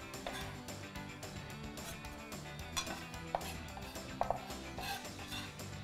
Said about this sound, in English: Now I'm going to scrape all of this into this bowl.